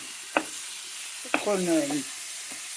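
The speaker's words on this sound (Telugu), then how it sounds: "ఇప్పుడు 1 నిమిషం వేయించుకొని" Bell pepper chutney mixture with coriander frying in a pan, a soft steady sizzle with a couple of sharp utensil clinks and a brief stir; a voice speaks briefly.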